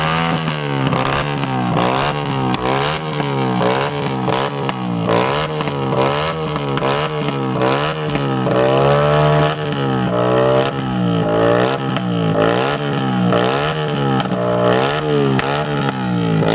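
Yamaha XJ3 motorcycle with a straight-pipe exhaust revved hard and repeatedly at close range, loud rhythmic blasts of raw engine noise rising and falling with each throttle stab.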